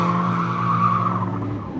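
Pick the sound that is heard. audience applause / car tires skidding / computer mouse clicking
car tires skidding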